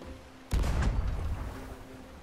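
A single heavy cannon boom in the video game Sea of Thieves erupts suddenly, followed by a rumbling low roar that slowly fades, with a faint hum underneath.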